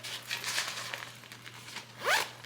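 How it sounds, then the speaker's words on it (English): A packing cube zipper pulled closed, a few quick rasping zips followed by a sharper final pull, close and alone in a quiet room. "And then just it zips right back up."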